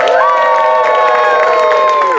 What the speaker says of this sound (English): Lady Macbeth gets up to thunderous applause